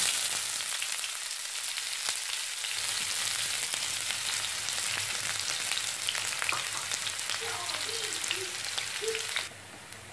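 Onion frying in a pan with cardamom, a continuous bright sizzle with faint crackles throughout, quieting abruptly just before the end.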